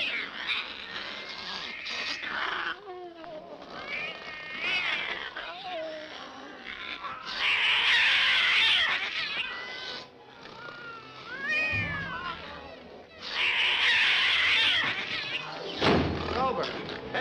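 Cats yowling and caterwauling at night near a wartime bomber base, loud drawn-out wavering cries in bursts that rise and fall, with a thud and a voice heard between them.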